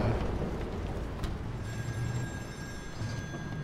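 A telephone rings in the video game Still Wakes the Deep, a thin high ringing tone held steady over a dense rumbling ambient background, with no talking.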